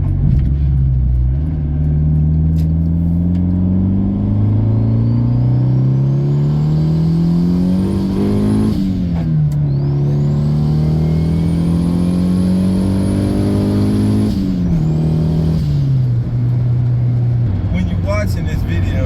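Turbocharged Honda street car engine revving hard through the gears, loud and close, with rising whine and boost pitch climbing, two sharp gear-change breaks, and a faint flutter as the throttle lifts near the end.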